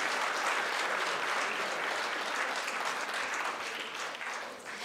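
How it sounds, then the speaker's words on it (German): Sustained applause from a large audience at a charity gala in Frankfurt, loud and even, tapering slightly toward the end. "Und dafür bitte den größten Applaus von dem heutigen Abend"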